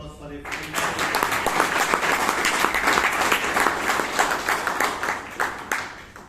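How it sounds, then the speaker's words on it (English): An audience at a Toastmasters club meeting in Bangalore applauds Dr. Rajdeep, a dense, steady round of clapping filling the room for several seconds before easing slightly at the end. "And Dr. Rajdeep, you deserve another round of applause for it."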